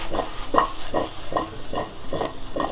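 Pumpkin pieces with a tempering of curry leaves and ginger are stirred in a pan. About seven steady, regular scraping strokes sound close up over a soft sizzle, with no voices.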